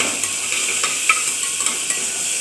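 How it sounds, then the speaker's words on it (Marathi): A ground spice paste fries in oil in a pan while being stirred, giving a steady close sizzle with scattered soft scraping clicks of the spoon. "आता हे वाटण पण छान आपल्याला तेलामध्ये भाजून घ्यायचं आहे दोन मिनटासाठी"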